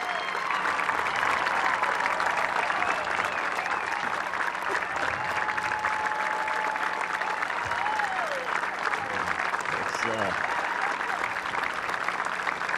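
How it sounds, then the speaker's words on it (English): An audience claps steadily and loudly throughout a NASA event marking the Space Shuttle program's 30th anniversary, with cheers and faint voices mixed into the sustained applause. "You have no idea what that applause did for me."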